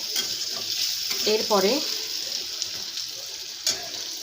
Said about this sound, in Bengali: রেড মির্চ, হলুদ আর কসুরি মেথি এই দিয়ে জাস্ট উল্টো পাল্টো করে একটু লালচে করে ভেজে রাখছি